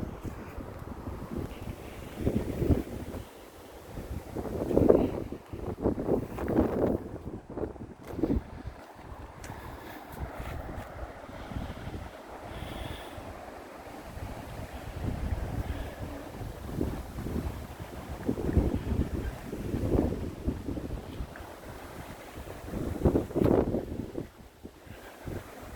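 Wind gusting outdoors on a blustery day, tossing trees around; a continuous low rumbling roar with buffeting surges on the microphone, swelling and easing throughout with no talking.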